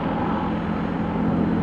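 Sikorsky CH-53K heavy-lift helicopter with three GE-38 engines flying a climbing display at ILA Berlin 2018, a steady broad engine and rotor roar, loud and continuous throughout.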